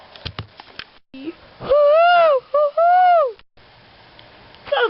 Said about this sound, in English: Is that an owl I